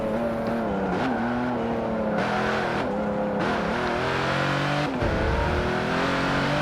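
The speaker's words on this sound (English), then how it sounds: "You hear the tires screeching." Tires screech under a loud, roaring car engine that rises and falls continuously, close and intense throughout.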